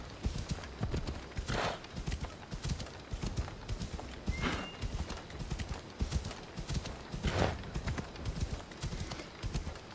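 Horse hooves clip-clop at a steady riding pace in the video game Assassin's Creed Odyssey, a rhythmic stream of close thuds with a brief whinny in between.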